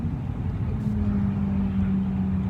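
Steady road traffic rumbling past with passing cars, a low continuous engine drone and a faint tonal hum, fairly close and without talk.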